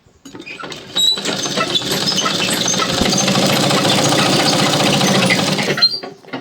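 A simple home sewing machine runs steadily for about five seconds, stitching a picot-style fall onto the folded inner edge of a saree, with a close, even mechanical whir after a short start.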